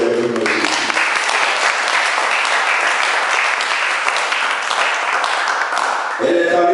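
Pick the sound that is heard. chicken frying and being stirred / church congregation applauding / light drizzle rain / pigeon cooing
church congregation applauding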